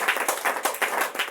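A church congregation claps in acclaim of the king, the claps coming in quick, loud bursts that follow one another in an uneven rhythm.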